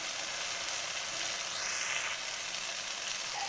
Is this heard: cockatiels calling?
no